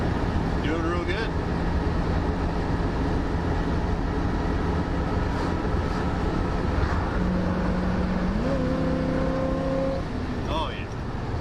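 A 1974 AMC Javelin with a fuel pump problem drives along in passing gear, giving a constant, loud in-cabin engine and road drone with a tone that rises in pitch near the end.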